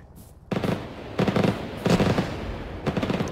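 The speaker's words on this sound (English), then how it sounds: "Oh, that's more artillery." Artillery explosions in the military video game ArmA, a series of loud booming blasts and rumbling impacts in quick succession over about three seconds, with no speech.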